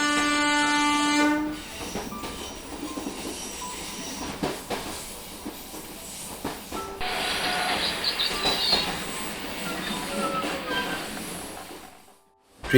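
A train rolls along the rails with a horn blast at the start, then a steady rumble and clatter of the cars, some squealing wheels in the middle, before cutting to quiet near the end.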